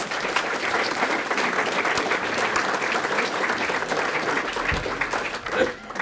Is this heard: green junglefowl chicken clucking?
no